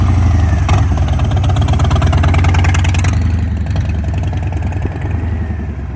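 Motorcycle engine running while being ridden, a close, loud, steady mid-pitched drone with clattery mechanical texture that eases slightly over the last seconds.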